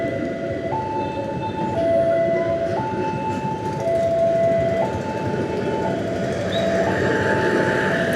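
An Indonesian passenger train, the farmers' train, passes near Rangkasbitung, its rumbling wagons loud and continuous beneath a two-tone warning signal that alternates evenly in the background.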